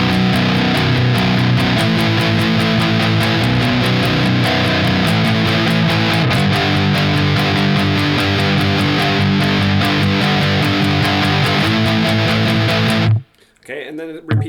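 Distorted electric guitar plays the chorus of a song, a dense, loud, steady riff with shifting chords that cuts off abruptly near the end.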